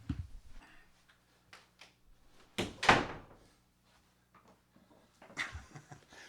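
An apartment door swung shut with a solid thunk in the middle, framed by scattered small knocks and handling noises in a quiet room.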